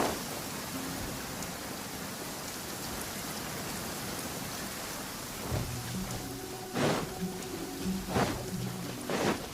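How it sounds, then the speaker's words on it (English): Steady, dense rainfall in Genshin Impact hisses throughout, with a few louder splashes and thumps near the end. "I'm used to the rain, but you should probably use an umbrella."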